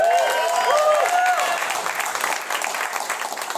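A comedy club audience applauds for a comedian at a host's stand-up show, with steady clapping and some cheering. Brief whistles or whoops sound near the start before the clapping thins slightly.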